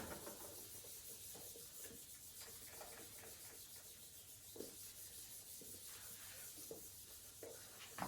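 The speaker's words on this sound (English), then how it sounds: "Allow me to erase this part." An eraser rubbing writing off a board during a maths lesson on finding area by integration: faint, soft scrubbing strokes in short repeated bursts, quiet and close, with no talking.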